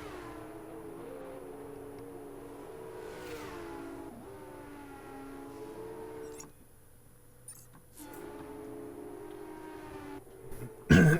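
Formula 2 cars in a racing video game rolling through a pace lap at Bahrain, with steady engine whine and revs that dip briefly near the middle, then rise again with a loud burst at the end; no talking.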